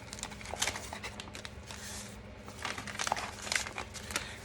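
Paper crinkles and rustles in irregular bursts as a cash envelope is handled up close, soft and quiet with no talking.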